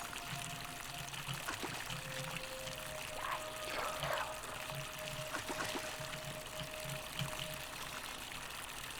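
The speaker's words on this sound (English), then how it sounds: "Fountain producing fresh water, which is coming from the aqueduct behind it." Fresh water from a fountain fed by an aqueduct flows continuously in a video game, a soft steady pouring and trickling wash at low volume with faint game tones and clicks behind it.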